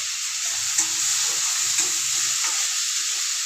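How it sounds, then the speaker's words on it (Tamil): Onion, garlic and tomato sauté in a pan for a tuber stew, giving a steady, close sizzle with a few soft scrapes of stirring and no voices. "பூண்டு தக்காளி வெங்காயம் எல்லாம் வதங்குது இப்படி வதக்கி விடணும்"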